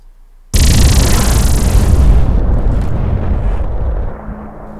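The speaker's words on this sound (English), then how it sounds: "Explosion sound effect." A loud, sudden explosion bursts in and rolls on as a dense roar of rumble and debris, slowly fading into a lower lingering rumble.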